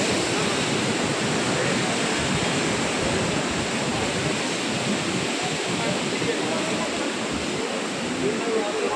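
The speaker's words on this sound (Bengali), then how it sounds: "ওদিকে গরম জল পড়ছে, ওটা গরম জল।" Hot spring water pours down at Manikaran Gurudwara as a loud, steady, unbroken rush that fills the whole stretch, close by and alone.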